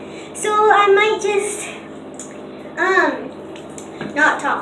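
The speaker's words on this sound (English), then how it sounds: "This water's gonna be a little bit too loud." Tap water runs steadily through a dog's bath, a constant wash of noise beneath a voice talking close by in short bursts.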